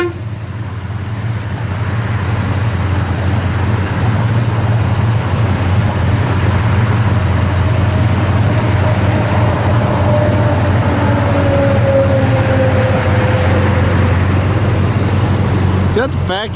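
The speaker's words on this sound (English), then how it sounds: "It's got the factory exhaust manifolds all into the stock. Single exhaust. This sounds good out the back though." A 1972 Chevrolet Cheyenne 10 pickup, running through factory exhaust manifolds and a stock single exhaust, idles with a steady low rumble that is loud and continuous, with a faint rising whine partway through.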